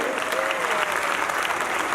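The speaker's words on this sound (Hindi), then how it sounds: "ताली बजाइए, जरा जुड़ के बजाइए" An audience applauds at a live comedy show, a thick, sustained burst of clapping from a crowded hall with a voice briefly audible over it.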